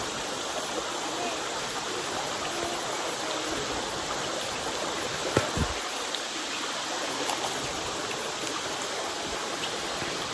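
Water pours steadily at Irpu Falls in Kodagu: a continuous, dense rushing hiss of falling and flowing water fills the whole stretch, with a faint brief knock midway and no speech.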